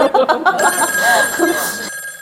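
A telephone ringing sound effect, with a bright repeating ring pattern close and loud, briefly cutting off near the end; no speech over it.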